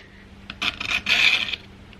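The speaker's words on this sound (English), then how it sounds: "this is the first time I've ever sharpened a chainsaw" A few short, raspy metal strokes of a file sharpening an electric chainsaw chain, close and fairly quiet, with a longer stroke in the middle and quiet pauses around them.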